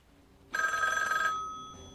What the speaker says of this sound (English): He's gonna phone Wendy up in a few minutes to tell her